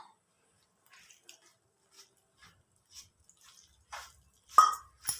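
Water trickled bit by bit into soft dough for potato kachori as it is kneaded: sparse, faint drips and small wet plops with long quiet gaps, then a louder splash near the end.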